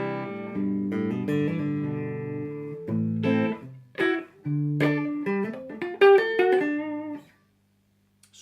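A Gibson SG Future Tribute electric guitar played clean with no effects: single notes and short phrases ring out plainly, then the playing stops and silence follows. Close, solo and without voices.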